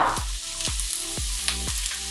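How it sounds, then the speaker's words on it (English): Onions, shredded carrots, peppers, bok choy and other vegetables for duck lo mein sizzle and fry in a hot pan, with a steady frying hiss broken by four rhythmic stirring scrapes, close and moderately loud, with no talking. "that's where you're gonna add all your other vegetables. We're gonna add our onions, our shredded carrots and peppers"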